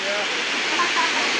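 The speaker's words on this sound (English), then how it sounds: "as the water cascades down to the river" Huangguoshu Waterfalls near Guiyang, China, cascade down to a river in a loud, continuous rushing roar, with a voice faintly talking over it.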